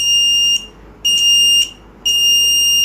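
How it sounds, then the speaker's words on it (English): A continuity tester module sounds a steady, loud high electronic beep while a wire is checked, in three bursts of about half a second each separated by short gaps, with no voices. "This is continuity tester. Checking the continuity of wire."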